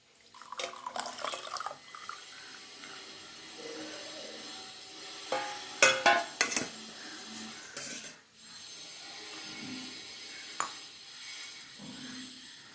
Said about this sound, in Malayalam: ഇത് നമുക്ക് അരിച്ചൊഴിക്കുക